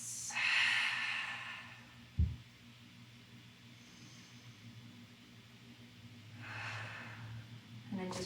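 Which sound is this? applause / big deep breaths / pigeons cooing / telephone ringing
big deep breaths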